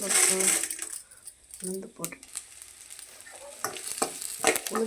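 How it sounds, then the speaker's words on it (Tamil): Urad dal and mustard seeds sizzle and crackle in hot oil in a pan while making idli upma, a soft, steady frying hiss with occasional pops beneath a voice talking. "சட்டியில் எண்ணெய் ஊற்றிட்டு கடுகு போட்டாச்சு. ஓகேவா? கடுகு போட்டாச்சு. அப்புறம் பார்த்திங்கன்னா உளுந்து"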